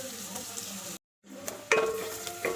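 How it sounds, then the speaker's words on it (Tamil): Onions sautéing in oil for a drumstick-leaf dal sambar: a steady close sizzle with stirring scrapes and a light pan clink, cut by a short silent gap partway through, no speech. "நல்லா வதக்கி விடுங்க எண்ணெயிலேயே"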